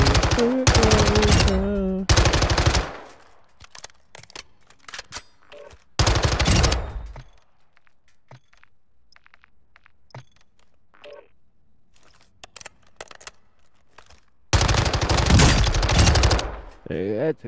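Automatic gunfire from Call of Duty Modern Warfare II as a training dummy is shot, loud sustained bursts with quiet gaps and scattered clicks between them, and a voice faintly heard in the pauses.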